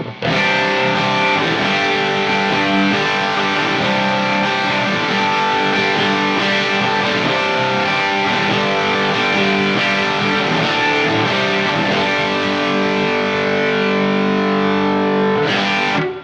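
An electric guitar plays sustained chords and notes through a Hardwire CM-2 tube overdrive pedal in its modified switch position, knobs at noon, thick and distorted, loud and continuous.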